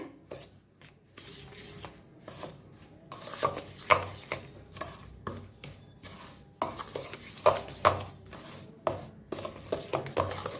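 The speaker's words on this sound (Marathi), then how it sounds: "आता याला मिक्स करून घेऊया" A spoon stirs and mixes a dry blend of fine semolina, fennel, sugar, cardamom and a pinch of salt in a bowl, giving soft repeated scraping and gritty rubbing with occasional light clinks, close and quiet.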